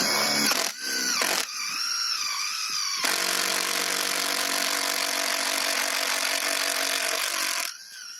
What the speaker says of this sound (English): let's go ahead and drill the holes for this